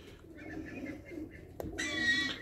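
Racing pigeons return to their loft after a training flight, giving soft cooing calls and wing rustles up close, followed by a sharp knock and a burst of fluttering.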